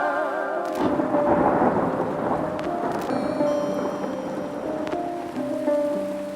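Steady rain falls with low rumbling thunder rolling underneath, a continuous stormy wash with a faint tonal hum running through it.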